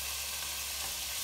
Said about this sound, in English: we're gonna give that a stir to incorporate it